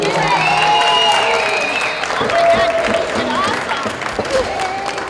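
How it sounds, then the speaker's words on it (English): Wedding guests clap their hands for the speaker after her speech, a full round of applause with voices and cheers mixed in that holds steady before thinning out near the end. "Everybody clap your hands one more time for Katie."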